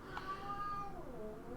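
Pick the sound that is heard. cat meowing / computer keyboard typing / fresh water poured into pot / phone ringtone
cat meowing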